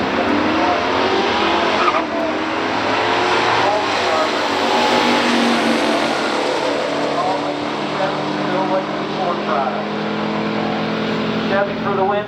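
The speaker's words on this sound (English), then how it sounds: "Paul Vitale out of Warren, Michigan, 67, Impala SS 427 4-speed car." A 1967 Impala SS 427 four-speed and a 1971 Mustang Cobra Jet race in a stock drag race, both engines roaring loud and continuous with rising revs and tire noise throughout.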